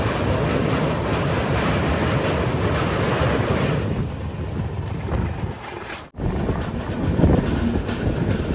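The Samata Express sleeper train pulls into Titlagarh Junction in Odisha with a steady, loud roar and rumble of rolling wagons, heavy wind buffeting throughout, and a brief dip near the end.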